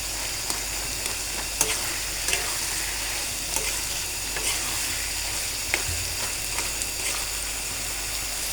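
Rohu fish roe frying in a pan, a steady close sizzle with soft stirring scrapes and occasional light clicks, no talking.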